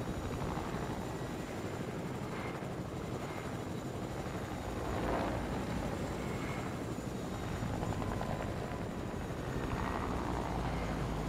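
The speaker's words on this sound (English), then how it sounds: "Fill my chopper up." A helicopter heard at a steady, moderate distance, its rotor and engine making a continuous droning hum with no breaks and no voices.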